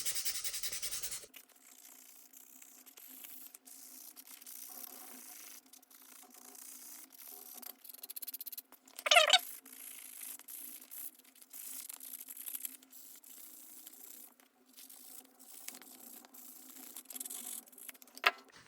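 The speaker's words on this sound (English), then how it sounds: "This is 240 grit, and we just want to scuff all of this up right here" 240-grit sandpaper scuffs leather on the jaws of a stitching pony, giving a steady, close, soft rubbing rasp that runs throughout, with one brief louder scrape midway and no talking.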